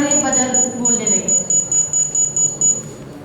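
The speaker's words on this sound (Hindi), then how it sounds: "अभी 6 फीट की कम दूरी आने पर ये बजर बोलने लगे।" A proximity buzzer on a mobile carrier device sounds when someone comes within 6 feet, giving a steady run of loud, high electronic beeps beneath a voice.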